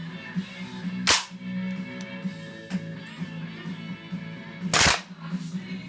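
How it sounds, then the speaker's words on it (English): A WE XM177 gas blowback airsoft rifle fitted with a real steel spring and buffer fires two sharp, loud, snapping shots a few seconds apart over a faint background hum. "it is firing and it is cycling pretty well"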